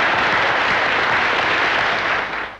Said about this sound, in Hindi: इन तालियों से, इस शोर से पता चलता है कि कृपा शंकर जी को कौन नहीं जानता।